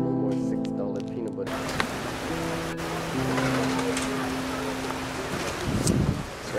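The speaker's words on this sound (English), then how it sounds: "It's raining right now." Rain falls steadily in Hawaii, a dense continuous hiss throughout with a brief quieter start, mixed with low background hum and faint talk.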